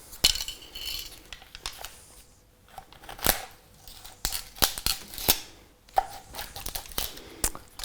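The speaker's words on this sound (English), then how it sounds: "take the tart, cut the tin foil on all 4 sides" Scissors snip through tin foil around a tart tin, giving a series of sharp, irregular crinkling cuts and crackles at close range with quiet pauses between them and no talking.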